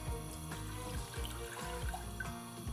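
About 250 ml of water is poured for a tamarind and jaggery mixture in Indian street food cooking, a quiet close trickle and splash with no talk.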